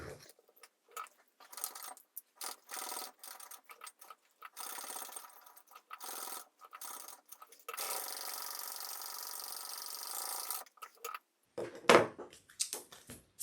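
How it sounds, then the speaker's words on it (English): A sewing machine top stitching and basting a fabric sling pack, running in short, repeated bursts of fast mechanical whirring with pauses between, one longer steady run, and a brief clink near the end. "now I'm going to top stitch and then baste"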